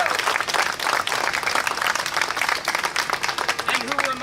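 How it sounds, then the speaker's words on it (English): A crowd at a Medicaid expansion rally and die-in in Richmond, Virginia, bursts into loud, sustained applause with scattered cheering, close and dense throughout. "If we could get one more round of applause for everyone like Charlene who shared their story."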